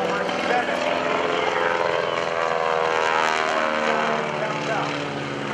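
An aerobatic propeller airplane flying a Cuban 8 at an airshow, its engine a loud, continuous buzzing drone with shifting pitch as it maneuvers overhead, heard alongside a voice speaking over a public address.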